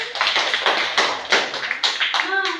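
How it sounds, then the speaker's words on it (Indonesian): Children in a classroom clap for a classmate in a steady, rhythmic pattern of distinct group claps, close and fairly loud, with a voice heard briefly at the end. "Tepuk tangan untuk Mami."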